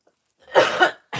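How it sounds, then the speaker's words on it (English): A single harsh cough sounds close to the listener after a brief silence, followed by the start of another cough. "There I go with my cough."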